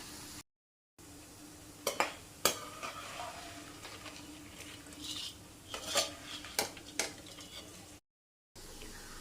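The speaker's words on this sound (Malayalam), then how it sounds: "ഞാനങ്ങ് ഫുള്ളങ്ങ് വെളിച്ചെണ്ണയിലേക്ക് പിഴിഞ്ഞൊഴിച്ചിരിക്കുകയാണ്" Arimurukku dough frying in coconut oil on a medium flame, a steady low hiss broken by sharp metallic clinks and scrapes of a utensil in the pan.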